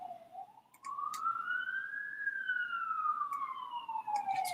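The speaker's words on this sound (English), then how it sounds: "I can hear a siren now." A police-style emergency siren wailing at a distance, its pitch sweeping smoothly up and then gliding back down, faint but clear, with a few light clicks around it.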